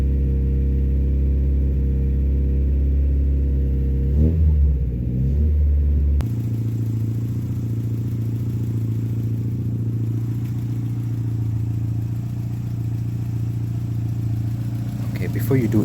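A Volkswagen Golf Mk1 carburetor engine idles at steady volume, its low rumble holding even and close, with a shift in tone partway through and a voice talking over it.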